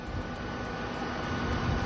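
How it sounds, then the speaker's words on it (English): A loud airplane engine roars in a steady, unbroken broadband drone, close and strong, with no voices over it. "it is a loud ass plane"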